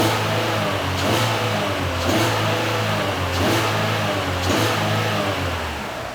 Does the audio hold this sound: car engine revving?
yes